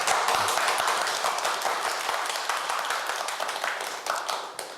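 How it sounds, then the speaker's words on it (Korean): An audience claps to welcome a professor to a lecture, an even, moderately loud applause that holds steady and eases off slightly toward the end. "교수님의 강연을 박수로 청해 듣도록 하겠습니다."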